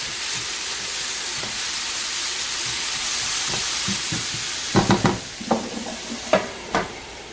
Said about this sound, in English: I'm just going to put a lid on it, and hoping that that kind of helps to soften it a little bit and steam it without charring the apples.